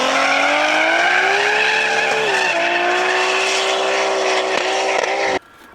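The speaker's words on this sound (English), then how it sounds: "So I can pull full throttle and build the boost." A 1000hp turbocharged Mercedes revs hard at full throttle, its loud sustained engine tone rising and wavering as boost builds, then cutting off abruptly near the end.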